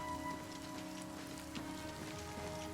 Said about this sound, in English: In the rain and everything too.